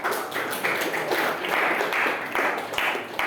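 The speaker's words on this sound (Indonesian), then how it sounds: "Kita beri tepuk tangan." Classroom applause for a student group after their biology presentation, a steady dense wash of many hands clapping at moderate loudness with no talking.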